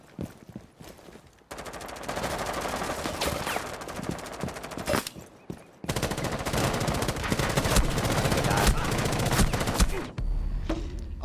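Gunfire in the video game Rainbow Six Siege, sustained loud bursts of rapid automatic fire in two long stretches separated by brief pauses, with a few scattered shots at the start.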